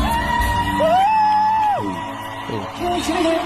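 A concert crowd whoops and yells for a singer on a poor-quality recording, with loud shouts and sliding cries rising over a dense, muffled background din.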